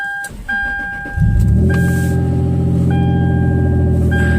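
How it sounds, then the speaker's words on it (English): A Toyota 4Runner's key warning chime dings steadily in repeated high beeps, then the engine cranks and catches into a loud idle while the chime keeps ringing over it. "That dinger is loud."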